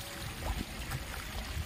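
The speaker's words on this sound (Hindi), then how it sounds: "देखो यहाँ से पानी गिर रहा है" Water pours and gurgles into a dry farm field for irrigation on a cold winter morning, a close, steady splashing flow with no talk.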